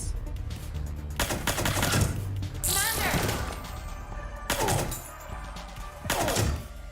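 Bursts of gunfire in Horizon Forbidden West, a few loud clustered shots separated by pauses, with a voice talking between them.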